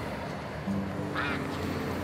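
A pet duck gives a single short quack near the middle of a quiet indoor stretch, close and fairly soft, with a faint low hum underneath and no talking.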